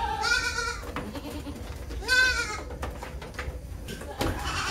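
Goats bleat loudly and close by during natural mating, with two long wavering cries and shorter calls between them, while faint background noise runs throughout.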